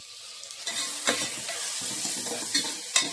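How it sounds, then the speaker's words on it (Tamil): Tomato and onion sauté in a pan under a steady sizzle, broken by a few sharp scrapes and clinks of a spatula against the metal, close and fairly loud with no talking. "தக்காளி வெங்காயம் லேசாக வதங்கியாச்சு"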